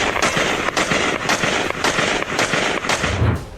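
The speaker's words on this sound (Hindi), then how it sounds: "ये गोलियों की आवाज सुनिए।" Gunfire outside the White House, many rapid cracking shots in an irregular string, sharp and echoing, with no talking over them.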